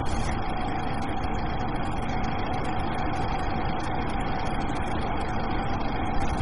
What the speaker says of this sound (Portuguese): O sistema de APU está desligado e motor ligado.